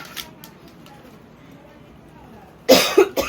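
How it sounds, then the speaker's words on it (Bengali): A person with a heavy cough lets out a short loud burst of coughing near the end, close to the microphone, after a stretch of quiet room noise. "প্রচণ্ড কাশি হয়েছে আমার"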